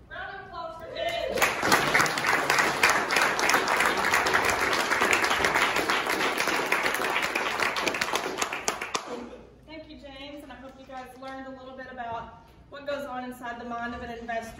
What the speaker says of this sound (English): Round of applause for Ben.